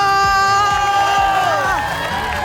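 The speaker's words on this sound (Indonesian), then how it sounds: "Kita kasih tepuk tangan sekali lagi yang paling meriah dong" A crowd at an Indonesian family thanksgiving celebration cheers and shouts loudly throughout, with children's whoops rising and falling over a steady roar and sustained tonal sounds running underneath.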